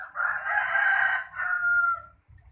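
A rooster crows loud and close in a Thai garden where chickens, crabs and fish are raised, one long drawn-out call lasting about two seconds, followed by quieter farmyard sound.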